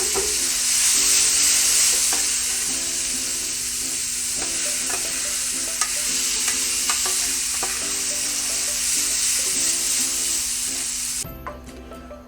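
Boiled chickpeas sizzle loudly as they are stirred in a hot pot, a steady frying hiss with scraping stir strokes throughout, cutting off abruptly near the end.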